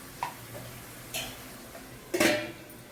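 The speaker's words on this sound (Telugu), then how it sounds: "మూత పెట్టుకుందాం ఫ్రెండ్స్." A lid clatters onto a pot of dried prawn and drumstick tomato curry, with a couple of light clinks followed by a louder, brief metallic clank over a faint simmer.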